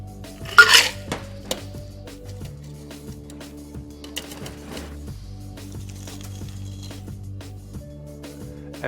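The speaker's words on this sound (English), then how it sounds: "Now double strain over that fresh ice." A spicy cucumber margarita is double strained over fresh ice, with a bright clatter of ice and metal early on, then light clinks and a soft trickle of liquid pouring into the glass, close and fairly quiet.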